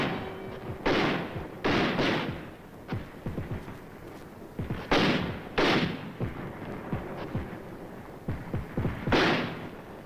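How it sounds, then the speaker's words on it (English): Mortar blasts in Korean War combat footage as troops withdraw toward Seoul: repeated heavy booming thuds in irregular clusters, some close and loud, others duller and more distant, with no speech over them. "Mortars blast at the approaching Reds who threaten to cut off the combat teams."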